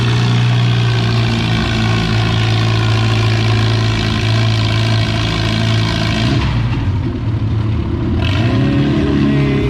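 A loud, heavy 3200 lb class pulling tractor engine drones steadily with a deep roar down the track at a tractor pull, then its pitch swoops and shifts as it revs near the end.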